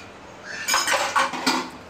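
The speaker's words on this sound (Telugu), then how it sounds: "ఇప్పుడు ఈ గిన్నె వచ్చేసి పెద్దదైపోయింది, ఇంకో చిన్న గిన్నెలో వేసుకుంటున్నాను" Curry moved from a large vessel into a smaller one, with metal pots and a spoon clinking and scraping in several quick, close bursts after a quiet start.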